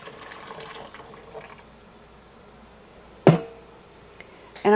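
Hot water from a kettle pours into a bowl of cereal grain mix, a soft liquid trickle at first, then quiet, followed by a sharp splash and a brief second pour near the end.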